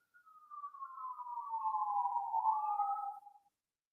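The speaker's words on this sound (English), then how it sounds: "Sirens everywhere." A lone siren wail sounds clearly on its own, a tone that slowly slides downward for about three seconds before cutting off, with no other sound around it.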